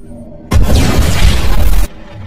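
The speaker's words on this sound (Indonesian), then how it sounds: "dia menarik pin granat dan meledak dirinya sampai hangus" A grenade explodes in the film Annihilation 2 with a loud, deep blast that lasts over a second, starting and cutting off abruptly over a quiet background.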